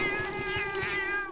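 A sustained, drawn-out cat meow from the video game Monster Hunter Freedom Unite sounds clearly and steadily over faint game background.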